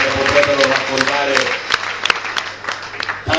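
A political rally crowd in Verona clapping loudly and steadily, dense applause that thins out partway through as a voice carries over it.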